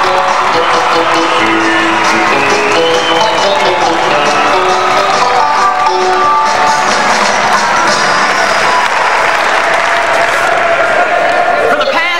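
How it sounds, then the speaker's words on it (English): A conference audience at a 1997 FFA state leadership session applauds Charlie Jones, with loud, dense, sustained clapping and some cheering that fills the whole stretch at constant strength. "let's give him a round of applause"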